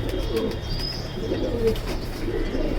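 Soft, low cooing from a racing pigeon, a female bird held nearby, with a couple of brief coos standing out against steady background hum.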